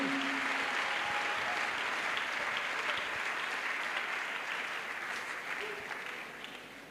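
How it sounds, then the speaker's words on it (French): A church crusade congregation in Douala breaks into sustained, dense applause offered as a clap offering, loud and continuous throughout and tapering slightly at the end, with scattered voices within the crowd. "Acclamation. A clap offering."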